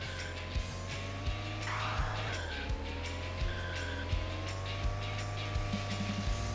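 A mini racing car in the game Eight Mini Racers hums steadily with a continuous engine whine, a short tire squeal, and repeated light knocks and bumps over quiet background music.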